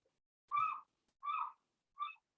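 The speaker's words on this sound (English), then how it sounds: "Wow, those seagulls are so loud." Seagulls call three times in short, separate cries with pauses between them, clear and fairly close, against a quiet background.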